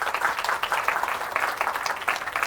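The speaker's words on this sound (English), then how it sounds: "a round of applause for that team." An audience claps for a team at a business school induction program, a steady dense patter of many hands sustained throughout at moderate volume.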